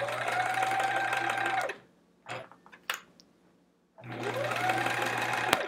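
Sewing machine stitching rows of a Charming Chevrons quilt, running in a fast steady whir with a rising motor tone, stopping for a couple of seconds of light handling clicks, then starting up and stitching again.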